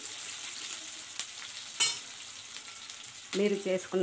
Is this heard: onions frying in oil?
yes